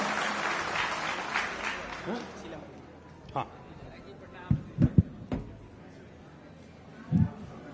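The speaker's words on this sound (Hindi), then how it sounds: "एक बार एक हल्की ताली मेरे लिए बजा दीजिए" Light applause from an audience at a party office gathering in Patna, a soft spread of clapping that fades over the first few seconds, followed by a few isolated thuds and taps, moderately distant.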